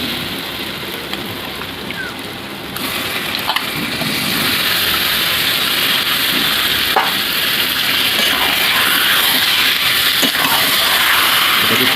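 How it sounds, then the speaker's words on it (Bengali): Desi rooster meat dropped into oil-fried spice paste, a loud, steady sizzling hiss that swells noticeably after a few seconds and holds close and even. "এর মধ্যে আমি এবার মাংসটাকে দিয়ে দেবো।"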